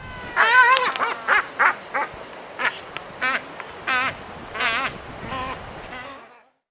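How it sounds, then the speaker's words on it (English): An albatross gives a series of about ten nasal, braying call notes in an uneven rhythm, clear and near, trailing off at the end with no talk over them. "Albatross."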